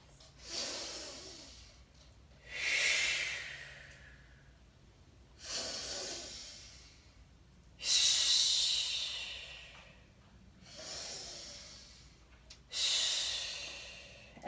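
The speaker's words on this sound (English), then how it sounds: "you want to take a couple really nice big breaths" A person takes slow, deep breaths during a guided relaxation exercise, about five long rushing inhale-exhale cycles at an even rhythm, close and clear, with no talking.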